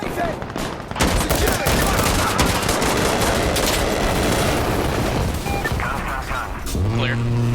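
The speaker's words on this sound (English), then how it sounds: "Strafe is called on our north side." Heavy automatic gunfire from an air strafe rattles and booms on a battlefield in Insurgency Sandstorm, a dense loud barrage lasting several seconds with voices talking over it.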